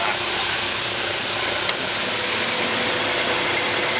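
A MerCruiser 4.5 200 engine on a 2019 Chaparral 19 Ski Fish boat idles in a steady, continuous low rumble with a broad wash of noise, unbroken and without voices.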